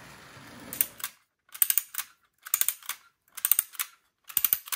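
Winding key turning the spring of a two-piece Joustra clockwork diesel toy railcar, heard as four or five close, crisp bursts of rapid ratcheting clicks separated by short pauses, with no talk.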